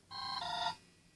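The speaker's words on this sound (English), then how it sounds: "And there goes my phone." A phone rings indoors, sounding one bright electronic tone burst of under a second. It is fairly faint and stands alone with no talking.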